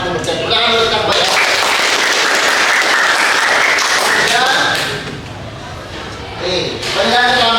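An audience at a teacher certification exam session claps in a dense burst of applause, loud and sustained for several seconds before tapering and swelling again, with voices mixed in.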